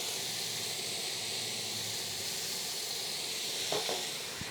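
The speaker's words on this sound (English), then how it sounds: "I'm gonna add some water. This is gonna start to steam that cheese when we close the lid." Water poured onto a hot grill beneath a burger topped with horseradish Havarti cheese hisses steadily as it steams, with a constant broad sizzle and a couple of faint clicks near the end.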